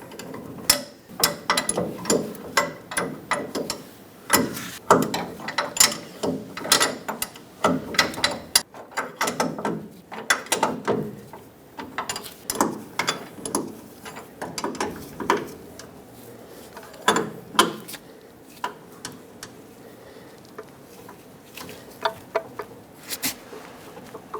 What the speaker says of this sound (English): Now the only thing you're going to get in here is an open-ended wrench, 14 millimeter, snug these down.